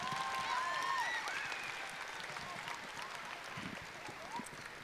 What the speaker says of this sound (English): One more big round of applause for our vocal jazz